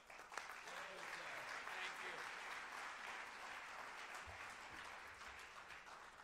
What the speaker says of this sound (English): so the applause will be extra vigorous